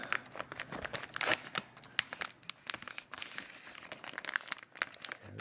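Plastic packaging crinkling and tearing as a Falcon F16v3 is unwrapped, a close, busy run of crackles and rips with short sharp peaks and no talk.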